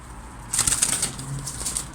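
A pigeon bursts into flight with a rapid flurry of flapping wings close by inside an abandoned house, loud for about a second and then trailing off.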